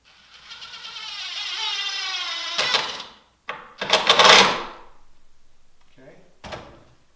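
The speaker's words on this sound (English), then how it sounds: "Let's go ahead and put a temporary screw in there" A temporary screw being driven into a wooden post with a power drill, which whines steadily, stops, then runs again in a louder final burst, followed by a couple of short clunks nearby.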